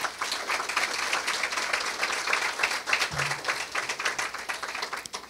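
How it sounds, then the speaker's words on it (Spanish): Applause from a university humanities faculty audience honoring the cleaning and maintenance staff before a lecture, steady dense clapping throughout with a brief low hum midway. "Y por eso a ellos también queremos darle un fuerte aplauso."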